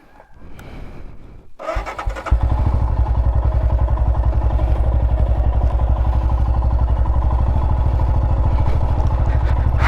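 A motorcycle engine is started after a silent pause, catches and settles into a steady, loud, close idle with a continuous rapid pulse.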